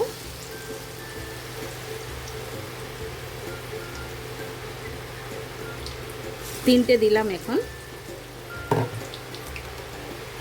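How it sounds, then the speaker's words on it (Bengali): Egg chops fry in hot oil with a soft, steady crackling sizzle throughout, joined midway by louder splashes and sputters as more pieces go in, while someone speaks briefly over it. "ভেজে নেব ভালো করে যতটা যাবে ওই হিসাবে দেব"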